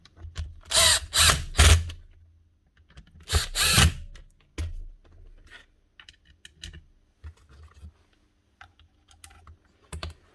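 A Makita power tool with a worn armature gear runs in several short bursts with a rough, grinding whir, separated by quiet pauses and faint mechanical clicks.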